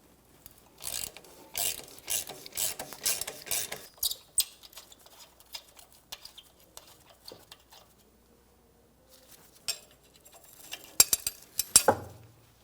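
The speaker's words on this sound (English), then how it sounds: "I'll be using a 12mm on both sides here. Use a wrench. I can use my ratchet on the back side." Ratchet clicking while 12mm bolts come off the left rear lower rearward control arm of a 1992-1996 Toyota Camry, several bursts of quick clicks spread over the clip with quiet pauses between them.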